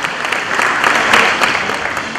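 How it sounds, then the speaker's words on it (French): An awards ceremony audience in Dakar gives a short burst of dense, steady applause for a jury member, loud and unbroken for a couple of seconds. "je vous demande d'applaudir"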